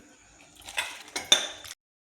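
Boiled shengdya beans are scooped from a pan into a cooking pot, with a few metallic scrapes and clinks of spoon against vessel, close and fairly soft, ending abruptly in silence.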